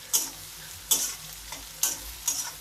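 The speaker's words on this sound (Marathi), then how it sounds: "तर आता आपण कांदा तळून घेऊया लालसर होईपर्यंत भाजायचा आहे" Onion frying in a pan gives a low background sizzle, broken by four sharp stirring scrapes at a steady rhythm, close and clear, with no voices.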